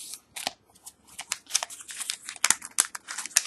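A sheet of paper is folded for a third time, producing close crinkling and crisp creasing sounds with sharp rustling bursts in an uneven rhythm, no voices present.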